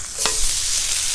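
Corned beef sandwich sizzling loudly in a hot pan, with one quick scrape and thump as it is flipped over, the frying hiss steady throughout.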